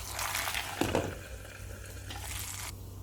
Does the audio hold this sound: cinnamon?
yes